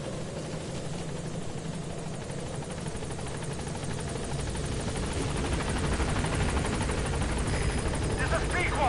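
Pequod helicopter from Metal Gear Solid 5 hovering at a landing zone, a steady rhythmic rotor thump and whine that swells louder toward the end, with voice radio chatter over it.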